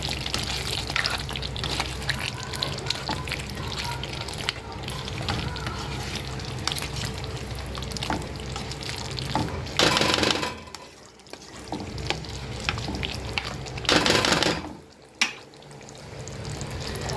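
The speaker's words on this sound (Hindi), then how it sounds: "अब मैं इसमें अनियन ऐड कर दूँगी।" Onions added to kebabs frying in a pan, a steady, dense sizzle with stirring and scraping throughout, swelling into louder bursts of hissing twice.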